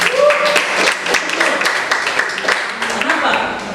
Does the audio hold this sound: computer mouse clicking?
no